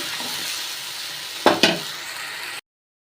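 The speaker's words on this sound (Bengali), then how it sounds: "লঙ্কার গুঁড়ো দেবো, জিরের গুঁড়ো দেবো, আর কাঁচা লঙ্কা ছেঁড়াটা দিয়ে আমি মশলাটা সুন্দর করে কষিয়ে নেব" Spice paste of chili powder, cumin powder, turmeric and torn green chilies sizzles steadily in hot oil, with two sharp stirring scrapes near the middle before the sound cuts off.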